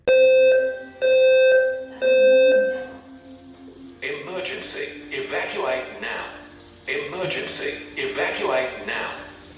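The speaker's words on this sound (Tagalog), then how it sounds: "nagulat na lang ako nang bigla na naman tumunog yung emergency alarm" A home emergency alarm sounds three loud, evenly spaced tonal beeps, then stops as a person starts talking close by.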